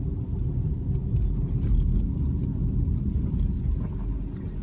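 A car drives around the island in Marquette, filling the cabin with a steady, close road rumble and low engine drone that hold even throughout, with no voices.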